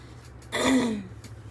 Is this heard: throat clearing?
yes